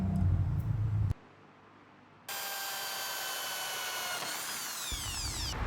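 Power drill boring a mount hole for a side mirror on an electric bicycle, a steady loud whir running close up after a short pause, with a brief earlier burst and the pitch sliding near the end.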